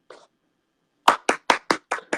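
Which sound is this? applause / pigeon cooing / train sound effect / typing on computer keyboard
applause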